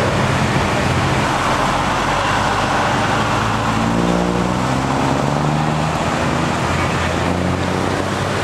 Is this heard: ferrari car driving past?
yes